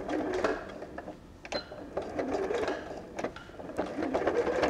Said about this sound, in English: you can section it just by running a line of straight stitch